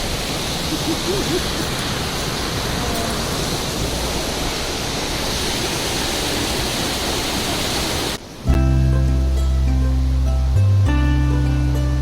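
Steady broadband rush of a turquoise river flowing through the Leutascher Geisterklamm gorge in Germany fills most of the clip, then cuts abruptly to a different, tonal humming background near the end.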